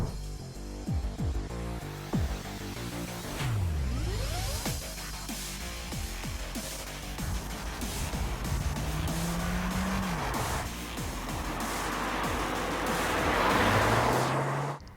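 A 2021 Audi A3 sedan's 1.5 TFSI mild-hybrid engine revs and climbs through rising pitches, gear after gear, loud and close, with tire noise and wind rushing over it.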